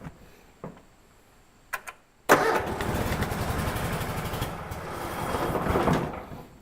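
A Cub Cadet lawn tractor after repair gets a start attempt: a few clicks and clunks, then the engine cranks and catches into a loud, rough, close running rumble that carries on to the end, without speech.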